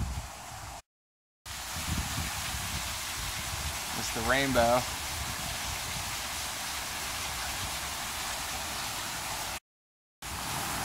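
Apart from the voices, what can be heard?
waterfall in Hoosier National Forest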